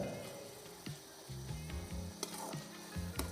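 Green chillies frying in a pan for hill-goat mutton curry: a faint, steady sizzle with a few soft stirring knocks, close but quiet, no voices.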